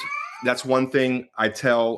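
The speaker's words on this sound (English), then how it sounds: "Cat sounds like a kid. He yells." A pet cat lets out loud, drawn-out, child-like meows, several yowls in quick succession, while a person talks over them.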